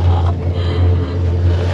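A Gulmarg gondola cable car cabin carries riders uphill in Kashmir with a loud, steady low hum and rumble inside the cabin, joined by wind-like rushing noise.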